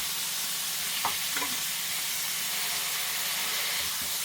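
Homemade Five Guys-style burger patties fry in their own rendered fat, a loud, unbroken steamy hiss with a few faint low clunks, close up and free of speech.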